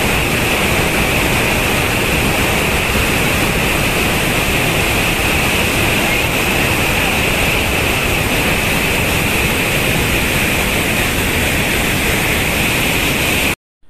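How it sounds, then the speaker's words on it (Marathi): The Savdav waterfall in Sindhudurg, Konkan, in heavy flow, its water crashing down in a loud, steady, unbroken roar that fills the whole stretch, then cuts off abruptly at the end. "सावडावच्या धबधब्याचा हा भयानक दृश्य बघा"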